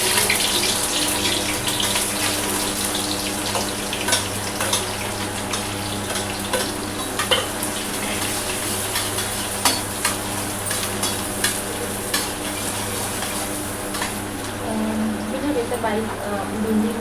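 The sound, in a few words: sliced onions frying in hot oil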